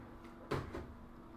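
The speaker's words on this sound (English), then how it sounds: "I move the table and threaten to topple over my water here" A table at an art workspace is shifted, giving a single short knock and scrape followed by a softer second bump, quiet and close against faint room hum.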